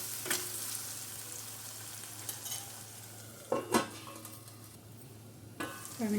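Masala paste for a raw prawn and mango curry fries in a pan as a low, steady sizzle, interrupted by a few sharp spatula scrapes against the pan.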